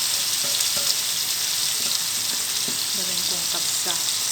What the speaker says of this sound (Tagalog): Fry ko muna yung chicken. Ayan. Kunting oil lang.